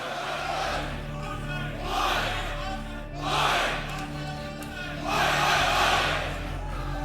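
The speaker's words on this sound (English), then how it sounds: "And I think this crowd's going to be the ones to give their energy to them," Esports arena crowd at a CS:GO match on Inferno at ESL Challenger Melbourne 2022, roaring and cheering in swelling waves over a steady hall din, loud and massed, peaking several times.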